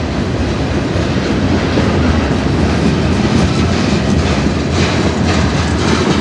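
A CN freight train carrying truck frames rolls past in Sarnia, Ontario, a loud, close, continuous rumble of wagons with rhythmic wheel clatter and no voices.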